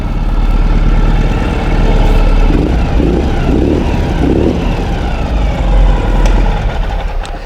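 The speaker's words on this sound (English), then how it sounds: "you can hear a nice sound from the FMF muffler" A 2013 Ural Adventure Patrol motorcycle idling in neutral, its exhaust running through an FMF muffler with a steady, loud, low throbbing rumble that holds throughout.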